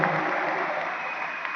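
Brief, steady clapping from a crowd of teachers at a Halal Bihalal gathering, an even burst of many hands over a faint background hum.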